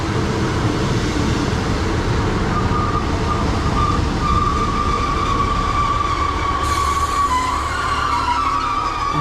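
A class 769 train arrives at Pengam station on the Rhymney Line, with a steady loud rumble of wheels on rail and a rising brake squeal as it slows alongside the platform.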